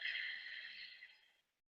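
A single deep breath exhaled slowly through the nose, a soft breathy hiss that fades out after about a second and a half, close and quiet with no talking.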